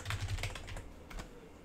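Quick, light keystrokes on a computer keyboard as a password is entered during a software installation, a short close burst of typing with no talk.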